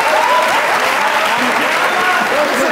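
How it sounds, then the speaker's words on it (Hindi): Studio audience at a Pakistani comedy talk show claps in a steady, dense patter throughout, with a voice speaking over the applause. "तालियां बहुत कम है, देखिए मैंने कितना जोर लगाया"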